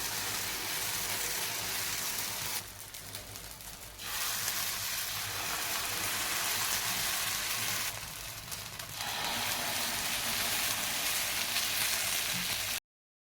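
Spoonfuls of leftover-rice batter fry in a hot pan, giving a steady close hiss of sizzling oil that dips briefly twice as more batter goes in.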